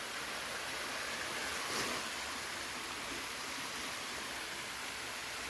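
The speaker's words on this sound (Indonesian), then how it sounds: "nanti akan menggunakan air sungai ini sebagai sumber air" River water rushing steadily at the intake of a hydraulic ram pump in a forest setting, a continuous broadband wash with no voices over it.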